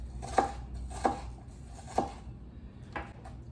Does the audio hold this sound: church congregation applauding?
no